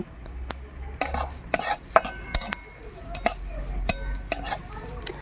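Dried chili, coriander and fennel seeds being fried and stirred in a pan, heard as sharp spoon clinks and scrapes against metal in an uneven rhythm, close and fairly loud.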